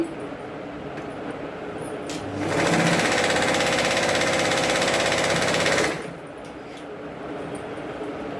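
A sewing machine top-stitches a blouse in one steady, loud, rapid mechanical run of about three and a half seconds, starting and stopping abruptly against quieter room noise.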